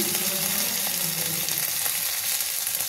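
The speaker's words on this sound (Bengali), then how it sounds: "দিয়ে আমি একটু কষিয়ে নেব" Ginger, cumin paste, chilli paste, salt and turmeric fry together in a pan with a loud, dense, continuous sizzle and a few faint stirring scrapes, close up and without talk.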